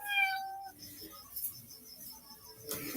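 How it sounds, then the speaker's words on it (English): A pet cat gives a single short meow, clear and close, followed by quiet room noise and a faint rustle near the end. "your cat sounds so cute"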